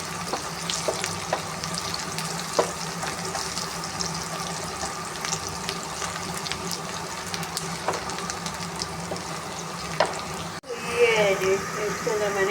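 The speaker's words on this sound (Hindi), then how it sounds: "इसलिए हरी मिर्च जाएगी, साफ फ्राई हो जाएगी इसके अंदर।" Green chilies fry in hot oil in a pan for a tomato and onion curry, a continuous close sizzle with scattered crackles and a few stirring clinks, and someone talks over it.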